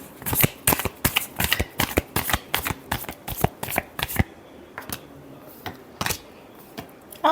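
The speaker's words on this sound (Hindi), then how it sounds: "Last shuffle." Tarot cards are riffled and shuffled close up in a run of quick crisp flutters and snaps, steady for about four seconds, then slower, sparser shuffles with a faint background hum.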